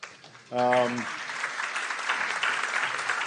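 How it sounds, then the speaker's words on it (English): Applause from a conference audience at the closing session of a marine spatial planning meeting, a dense steady patter that swells after a brief tonal voice-like sound and carries on evenly to the end. "I want all of you to give a hand to the four institutions"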